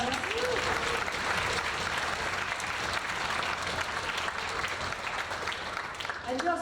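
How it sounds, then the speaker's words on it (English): A school auditorium audience applauds parents at a 9th grade concert, with sustained, full crowd clapping over the whole stretch and faint voices and cheers mixed in. "Can we give a big round of applause for our parents?"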